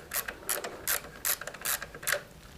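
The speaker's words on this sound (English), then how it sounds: "finish it off with a ratchet. We'll tighten this up now" A hand ratchet tightens the battery hold-down on a Harley-Davidson Sportster, giving six crisp, evenly spaced clicking bursts up close over a quiet background with no talk.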